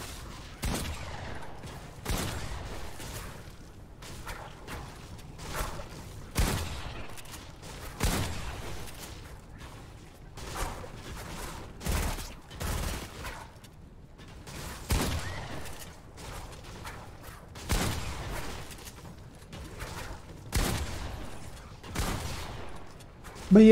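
Gunfire comes in short, separated bursts during aim training in Fortnite, fairly faint and spaced every second or two across the stretch, with a few louder shots mixed in.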